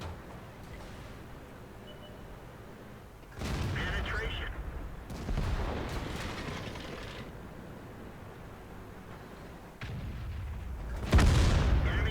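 Tank cannons fire in the game World of Tanks while an M46 KR tank is driven, several heavy booms with rumbling tails over a steady engine drone, with a voice commentating throughout.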